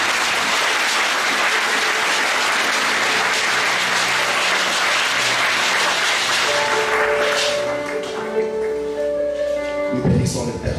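Church congregation applauding loudly and continuously at a sermon, dense steady clapping filling the space, with sustained tones and a few raised voices emerging toward the end.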